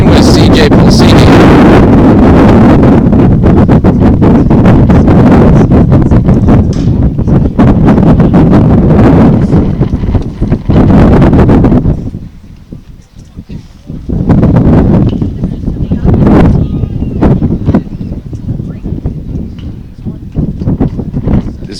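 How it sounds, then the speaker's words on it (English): Strong wind buffets a microphone outdoors at a college basketball team's trip, a loud roaring rumble that dominates most of the clip, easing briefly partway through before gusting hard again, with someone talking over it. "This wind is insane."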